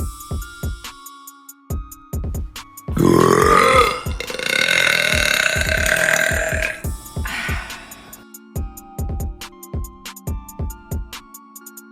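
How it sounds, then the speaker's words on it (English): A woman lets out a long, loud, drawn-out burp lasting several seconds, set against a steady rhythmic backing beat that plays before and after it. "I actually feel like I have to burp some more."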